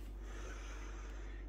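Someone sniffs a glass of lager close by, a soft, quiet breathy draw of air with no talk.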